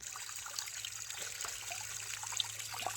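Water trickles steadily into a container being filled halfway, outdoors in a village at dusk, a thin continuous pour with no speech over it.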